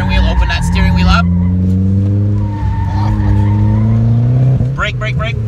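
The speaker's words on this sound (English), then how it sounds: "Okay, we accelerate hard and we brake hard." Car at an autocross event braking hard, tires squealing and skidding in bursts over a steady loud engine drone, with a person talking throughout.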